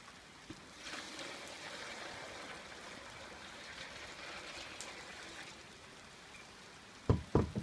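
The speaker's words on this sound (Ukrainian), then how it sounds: "та я додам воду до льоду" Cold water from Bukovel poured over ice, a steady trickling, splashing stream running for several seconds at moderate level, ending in a few sharp knocks of ice or container.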